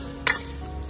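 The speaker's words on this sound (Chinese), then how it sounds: "给它翻炒，" Wood ear mushrooms stir-fried in a wok, a continuous close sizzle broken by two short bursts of spatula tossing.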